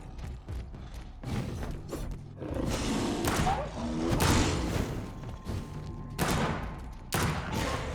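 Gunfire in the video game Vampyr: repeated loud shots and impacts mixed with thuds, whooshes and creaking game effects, forming a dense, continuous burst of combat sound.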